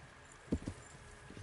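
A horse gallops in Kingdom Come: two close, heavy hoof thuds land in quick succession, followed later by a few fainter hoofbeats over a quiet background.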